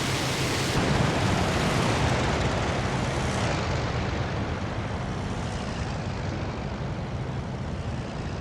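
Engine roar of a Mig-3 Ser.24 fighter in the IL2 Sturmovik combat flight game, a dense steady broadband drone filling the cockpit, loud and unbroken throughout.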